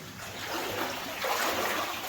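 Falling water rushes in a steady, hissing wash inside an old mine, a waterfall heard at moderate level with no talk over it.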